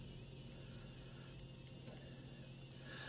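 A MYNT3D 3D printing pen's motor feeds PLA filament with a faint, steady whirring and ratcheting gear noise that runs without a break.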